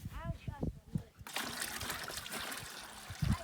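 Fresh potable water poured into a bucket at an RV campsite, a steady splashing trickle after a brief spoken exchange, continuing loud and close to the end.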